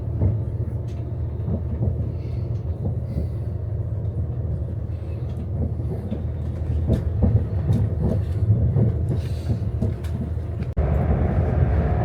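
A passenger train rolls toward Crewe station, heard from inside the carriage as a steady low rumble with rhythmic clicks of wheels over rail joints, continuous and fairly loud throughout.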